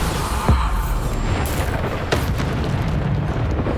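Bombarda spell explosions in Hogwarts Legacy during a combat trail fight: a sharp boom near the half-second mark and a second blast around two seconds, each with a burst, over a constant rumbling game backdrop.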